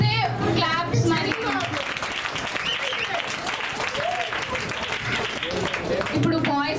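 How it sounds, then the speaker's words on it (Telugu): Audience at a church children's Christmas program applauding after a children's skit, steady dense clapping throughout with crowd noise and some voices and children's chatter mixed in underneath. "మీకు స్కిట్ నచ్చితే క్లాప్స్"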